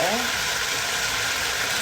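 Mushrooms saute in a pan for chicken in white wine, a steady, close sizzle and frying hiss that runs continuously throughout.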